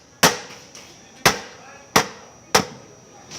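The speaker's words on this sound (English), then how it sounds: "Now you're going to have to break off the tension control throttle, which is just take a hammer and break it right off." Four sharp hammer strikes hit an office chair's tension control throttle to break it off, evenly spaced hard metallic impacts each ringing briefly, close and loud.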